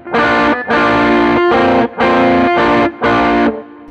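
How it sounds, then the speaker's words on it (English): An electric guitar with a light, slightly heavy overdrive strums full, clear chords in several sustained bursts separated by short gaps. It is loud and close, with no talking. "I want a sound that's kind of got a bit of overdrive, it's a little bit kind of heavy, but also has a clarity that you can make out notes and chords."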